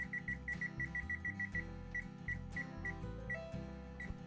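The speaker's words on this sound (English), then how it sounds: "now set the timer for 25 more minutes." A kitchen timer being set for baking an apple torte, a series of short electronic beeps, quick and regular at first and then more spaced out, close and clear with no talk.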